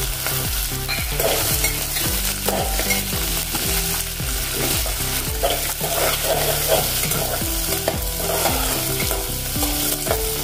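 Peas and chopped carrots are stir-fried with garlic in a pan, giving a continuous sizzle with repeated scraping and stirring strokes. Background music plays throughout and no one speaks.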